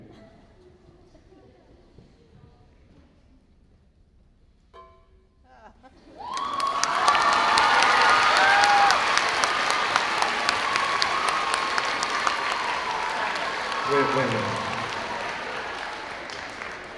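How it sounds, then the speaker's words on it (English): After a short cowbell solo during a high school concert, the audience bursts into loud applause and some cheering, following a quiet stretch with a brief spoken line, and the clapping continues steadily. "are you really applauding for that?"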